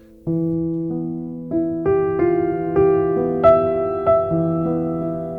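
Sustained piano notes and chords in E Phrygian ring out one after another at a moderate, unhurried pace, clear and close with no voices.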